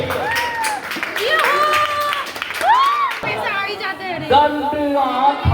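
An audience at a school annual function claps and cheers for guests amid loud crowd chatter and children's shouts, with voices and whoops rising over a steady bed of applause.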